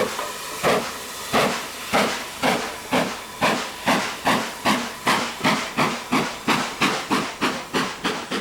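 A BR Standard 76000 Mogul steam locomotive hauls a northbound stopping train on single track. Loud, close, rhythmic exhaust chuffs beat steadily, about two per second, with no talk.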